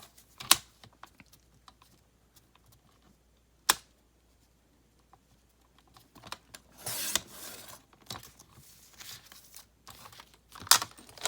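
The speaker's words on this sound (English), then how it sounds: "I'm just cutting my papers out" A paper trimmer slices through sheets of paper: scattered sharp snaps and slides, with a longer rustling, scraping stretch in the middle.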